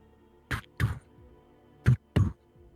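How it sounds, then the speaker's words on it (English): Four deep, muffled heartbeat thumps in two lub-dub pairs, sounding alone over a low hum as part of the music in a tabletop role-playing game. "there is a heartbeat in its song"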